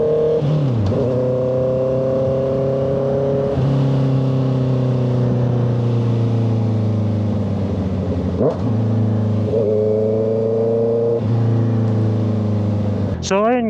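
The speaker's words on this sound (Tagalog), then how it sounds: "anong masasabi nyo sa ating bagong muffler SE project? Ayos ba yung tunog?" A 2025 Honda CBR650R with an SC Project exhaust revs loudly and close, its inline engine note rising and falling through several throttle blips, ending in a sharp high rev.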